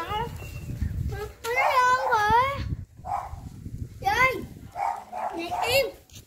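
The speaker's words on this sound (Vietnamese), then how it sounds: "Ô, con chó ra nó mừng dạ." A dog greeting someone at a rural countryside home gives a few excited barks, mixed in with whining yelps. People talk over and between the barks.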